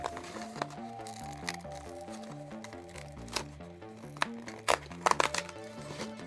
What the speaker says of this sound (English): That is the sound of a Slim Jim box opening.